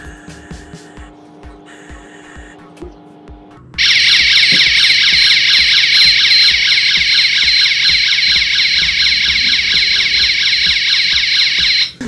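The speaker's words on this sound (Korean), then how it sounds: "이게 경보값 이상으로 올라갔을 때 자체적으로도 경광등이 울리지만 요 외부 경광등에서도 수치가 올라가게 될 거예요" An external warning beacon alarm wired to the relay of a FIX800 fixed multi-gas detector starts abruptly and blares continuously, a loud, steady, piercing electronic tone that drowns out the quieter clicking and hum before it.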